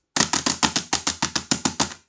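About a dozen crisp, evenly spaced key taps on a computer keyboard in a quick rhythm, close and clear with nothing else audible.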